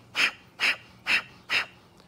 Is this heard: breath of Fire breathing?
yes